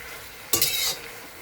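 A carp belly and tofu dish gets a single quick stir in a hot pan, a short burst of scraping and sizzle against a quiet background.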